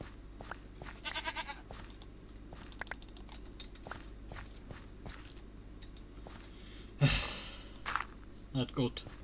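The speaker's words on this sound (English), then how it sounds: "That goat will be the death of me, I tell you." Goat bleating in Minecraft, one loud, wavering bleat followed by a couple of shorter bleats, heard over steady game ambience and scattered footstep-like ticks.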